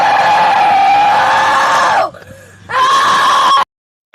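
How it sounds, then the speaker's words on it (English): A loud human scream, a powerful Hulk-like yell held for about two seconds, breaks off briefly and then comes back for another second before cutting out. "that was like a Hulk scream"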